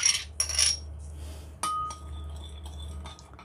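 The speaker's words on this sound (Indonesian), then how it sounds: "Aduk sebentar" A spoon stirs warm liquid milk with granulated sugar and instant yeast in a bowl, giving a few sharp clinks against the rim up close, then quieter scraping and light taps alone.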